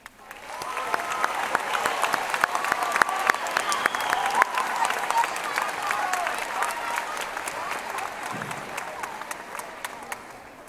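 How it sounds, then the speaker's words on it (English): At a middle school graduation, an audience applauds the teachers with sustained, fairly distant clapping that stays steady before tapering off at the end, with some voices mixed in. "Please join me in applauding their efforts"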